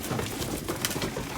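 Hungry young racing pigeons coo softly and patter close by while being hand fed, a low, continuous murmur of birds.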